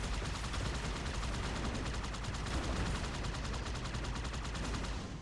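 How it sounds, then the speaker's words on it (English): Rapid, sustained automatic fire from a Ghost vehicle turret in the Halo 2 video game, a dense unbroken stream of shots fairly loud and steady for the whole stretch. "Oh, he has a ghost turret."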